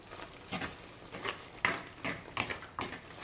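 A chicken heart pepper curry is stirred in a pan, with a series of scraping spoon strokes and soft sizzling arriving in an irregular rhythm, close and fairly quiet.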